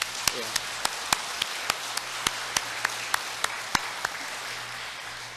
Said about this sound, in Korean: 하나님 감사합니다 하면서 한번 박수